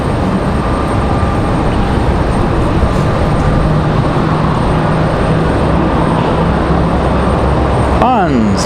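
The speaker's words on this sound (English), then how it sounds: "we do have an A319 ready to bounce out of here" Airbus A319 departing an airport, a loud continuous broadband jet roar that holds steady throughout, with a brief sweeping whine near the end.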